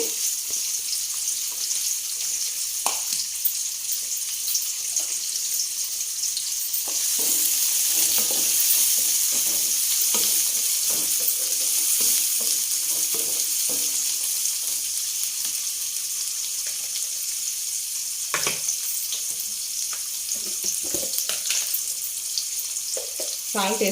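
Onions fry in a pan for ridge gourd masala curry with a continuous close hiss and sizzle that swells for a few seconds mid-way, scattered with occasional stirring clicks and knocks.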